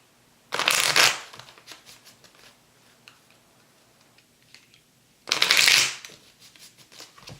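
A deck of cards is riffle-shuffled twice, each a loud, close, rapid fluttering burst lasting about half a second, separated by quiet with faint soft handling clicks in between.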